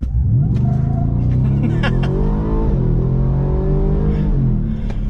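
A 2023 Ford F-150 Raptor R pickup truck drives on the road, its engine loud and close with shifting revs, rising and falling tones and a steady rumble throughout.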